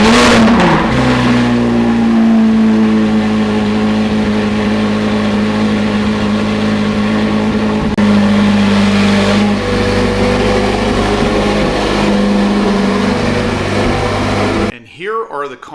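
A Chevrolet Corvette C8 Z06 engine with stock headers cold-starts, cranking and firing up, then settles into a loud, steady idle with a high rev hum, close by, before cutting off.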